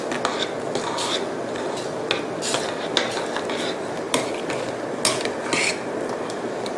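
Fish maw soup in red gravy being stirred steadily in a pot as dissolved tapioca starch is poured in, with repeated clinks and scrapes of a utensil against metal, close and fairly loud, with no talking.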